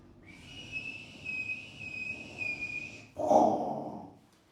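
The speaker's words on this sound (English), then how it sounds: "I'm trying to whistle." A man whistles a steady high tone for about three seconds, fairly close and alone, followed by a short breathy burst of air as the whistle ends.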